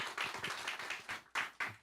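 An audience at an academic teacher education forum in Cheongju claps in a brief, fairly quiet burst of applause, the individual claps blending into uneven pulses that stop and restart, with no voices over them.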